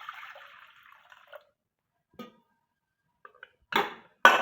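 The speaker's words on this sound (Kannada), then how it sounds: "ಅದಕ್ಕೆ ಬೇಕಾದಷ್ಟು ನೀರು ಹಾಕಿ" Water poured into a pot of washed lentils set to cook for drumstick-flower dal saaru: a soft running pour at the start, then scattered faint drips and taps, ending with two louder splashy sloshes.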